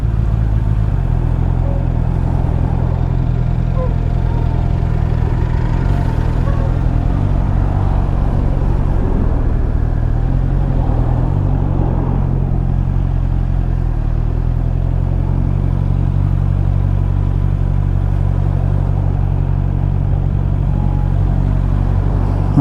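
A Honda CB650R motorcycle runs continuously through Edinburgh rush-hour traffic, its engine a steady close rumble under wind and road noise with occasional clatter, no voices heard.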